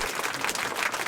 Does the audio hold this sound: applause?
yes